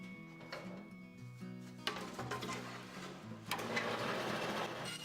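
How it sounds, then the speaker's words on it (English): A bandsaw cuts up a thin back panel of 1/8 inch plywood in a woodworking shop, producing a steady motor hum with a rising, harsher cutting rasp partway through. "using the bandsaw to cut up the back panel"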